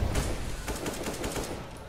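Rapid gunshots in a CS:GO match on de_mirage, a quick string of sharp cracks in close succession, moderately loud with no speech over them.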